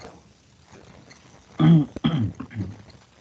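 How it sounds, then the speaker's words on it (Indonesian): During an online chemistry lecture on water treatment technology, a man who has a cough clears his throat and coughs in two or three close, rough bursts. The room is otherwise quiet. "mohon maaf ya karena saya batuk ya"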